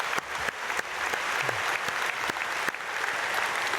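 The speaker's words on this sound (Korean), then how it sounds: "박수로 축복해 주십시오." A church congregation applauds during an early-morning prayer service, a steady wash of many hands clapping filling the space throughout with a few sharper claps standing out, no talk on top.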